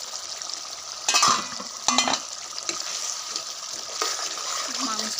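Duck meat in a pan after a little water is added, a close watery sizzle and bubbling with a few loud clattering bursts as a lid or utensil knocks against the pan.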